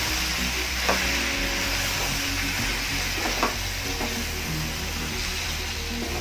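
Okra and boiled potato, both already fried, are stirred together in a pan on the gas, with a steady sizzle broken by a couple of sharp spatula knocks.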